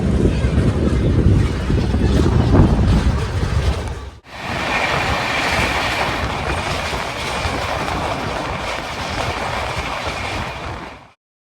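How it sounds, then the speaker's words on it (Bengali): The Kolkata–Agra Cantt express rolls along the rails with a loud, steady rumble and rhythmic clickety-clack, shifting abruptly mid-way to a brighter, hissing wheel-and-wind roar that runs on until it suddenly cuts off. "আর ট্রেন ঢুকলো গয়া জাংশনে।"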